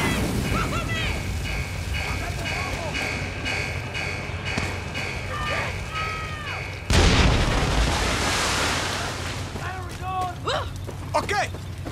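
A grenade explodes in the Far Cry 6 video game as one loud, sudden blast partway through. It follows steady combat noise and talk, and voices and game sounds carry on after it.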